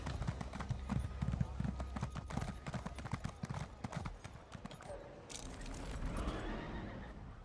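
A horse mount in a video game gallops with steady, rapid hoofbeats and lets out a neigh near the end, fairly close and clear, with a voice talking over it.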